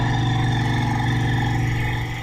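A cold car engine idling at a steady, too-high speed after a throttle blip, a constant droning hum close by with no talking.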